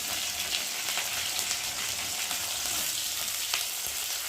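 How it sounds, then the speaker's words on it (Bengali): Onions fry in hot oil in a pan, giving a steady crackling sizzle with light stirring and no talking. "পেঁয়াজটা একটু ভালো করে ভেজে নেবো।"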